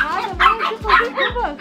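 A dog gives three quick, high barks spaced about half a second apart, close and fairly loud, with people talking over and between the barks.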